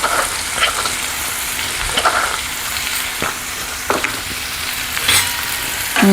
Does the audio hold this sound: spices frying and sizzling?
yes